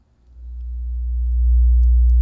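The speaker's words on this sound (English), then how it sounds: "There it is, wonderful sine wave of 60 hertz." A pure 60 hertz sine test tone swells in steadily and then holds loud and constant, alone and without any voices.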